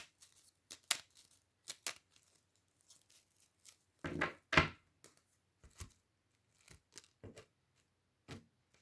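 Soft riffling and snapping of tarot cards being shuffled nearby, coming in quick irregular bursts with a louder flurry midway and quiet pauses between.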